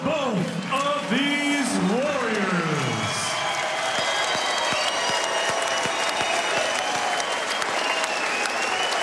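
Loud boxing crowd applause and cheering at the Roseland Ballroom swell after a ring announcer's voice fades, clapping sustained and dense to the end.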